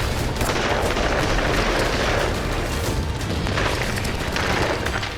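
Heavy gunfire and explosions boom continuously in southern Gaza, where Israeli commandos surround Hamas fighters in a school, a dense, loud rumble of blasts and shots filling the whole stretch with no pause.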